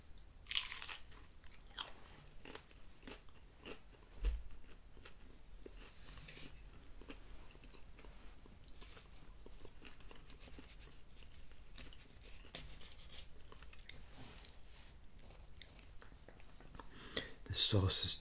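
Someone eats small cut pieces of Domino's pepperoni pizza close to the mic, with soft crunching bites and steady chewing throughout, and a few sharper bites near the start and end.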